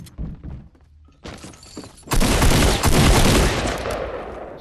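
Shotgun fire in the video game Bandolier: quiet thumps and clatter give way to a sudden loud blast, then a dense burst of gunfire that roars on to the end.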